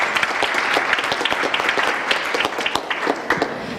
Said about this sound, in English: so I hope we can all give them a round of applause too.